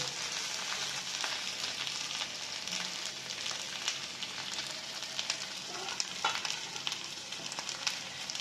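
Pasta with winter vegetables bubbling and sizzling in a pan, a steady quiet hiss of frying with small crackles and pops scattered throughout, close and alone.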